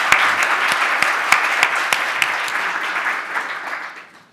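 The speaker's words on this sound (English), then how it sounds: "let's give a warm applause" Audience applause for a guest speaker at a distinguished speakers event in Hong Kong: a dense, steady wash of many hands clapping with a few sharp louder claps, holding level for about four seconds before fading out at the end.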